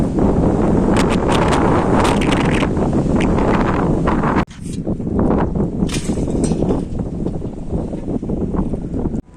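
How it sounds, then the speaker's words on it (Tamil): Strong desert wind in a Dubai sandstorm buffets loudly and close, roaring and gusting in heavy waves with a brief drop midway before surging again. "காற்று அடிக்குதுங்க பாலைவனத்தில்."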